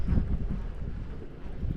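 Gusty wind buffets the microphone in low, uneven rumbling bursts, loud and close, with no talking, on a cloudy day while bass fishing.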